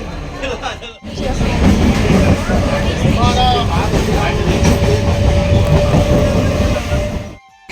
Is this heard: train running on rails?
yes